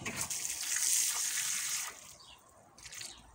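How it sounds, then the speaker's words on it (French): Water splashes and trickles onto a courgette bed in a vegetable garden, a continuous close pour that thins out, pauses briefly, then returns as a softer trickle near the end, with no talking. "je vais arroser à partir de ici"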